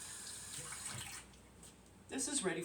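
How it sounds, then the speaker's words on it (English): Kitchen tap water runs while hands are quickly washed, a soft steady hiss that dips briefly and then swells louder and splashier as the hands go under the stream, close by. "Give my hands one more quick wash"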